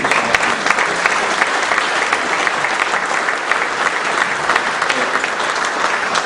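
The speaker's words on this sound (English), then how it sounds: "a round of applause for all the industry sponsors" Dinner audience applauding industry sponsors at a marine industry event, a steady, dense clapping from a large crowd that holds at full level throughout with no pauses.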